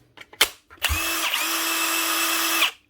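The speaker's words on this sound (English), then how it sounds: "The GDX 18V-EC brushless Bosch Impact Driver" A Bosch GDX 18V-EC brushless cordless impact driver, just fitted with a new body after a broken handle, gives a few short taps and then whirs loudly and steadily for almost two seconds before stopping.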